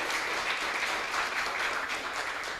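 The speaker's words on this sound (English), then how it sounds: "Let's have one more round of applause." An indoor audience at a citizen science showcase in West London gives a dense, sustained round of applause, with steady clapping close by throughout.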